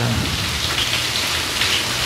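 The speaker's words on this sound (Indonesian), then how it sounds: "Kita lihat hujan di depan rumah, ya." Steady heavy rain falls in front of a house, a dense, continuous hiss of drops striking surfaces, close and loud throughout with no pauses.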